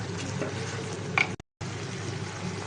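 A chicken Manchurian mixture seasoned with pepper is stirred in a hot pan, giving a steady close sizzle with a brief scraping clink partway through and a short gap of silence.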